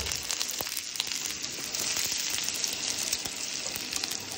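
Boiled potatoes frying in a pan with steady, dense sizzling crackle throughout, loud and close with no talking.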